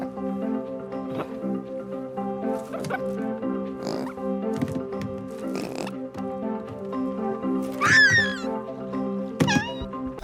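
A cat in the animated film Flow meows a few times, short rising cries heard at moderate distance over a sustained musical score, with no speech.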